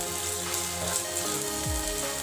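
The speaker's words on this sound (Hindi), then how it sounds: "अब हम इसमें 3-4 हरी मिर्च मिला देंगे।" Green chillies drop into a pan of browned onions for a Bengali pabda fish curry, a steady soft sizzle of frying oil throughout the short stretch, close and even, with no talking.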